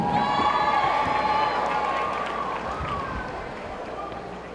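A gym crowd cheers and claps for a senior player during a women's basketball senior-night ceremony against Southern Arkansas, a loud, steady roar with whoops that slowly fades over a few seconds.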